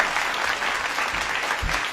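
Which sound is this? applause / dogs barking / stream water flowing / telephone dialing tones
applause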